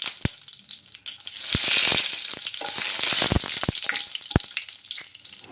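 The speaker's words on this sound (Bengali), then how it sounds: "এখানে একটি কড়াইতে তেল গরম করে তাতে গোটা গরম মশলা, শুকনো লঙ্কা আর তেজপাতা দিয়ে ফোড়ন দিয়ে দেব।" Whole garam masala, dried red chillies and bay leaves crackle and sizzle in hot oil in a kadai, a steady hiss broken by sharp pops and spatters throughout.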